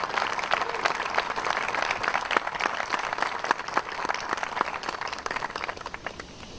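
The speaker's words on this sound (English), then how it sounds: "How about a big round of applause for John?" Sustained applause from a crowd at a naval retirement ceremony, dense clapping at steady loudness throughout with a few sharper claps standing out.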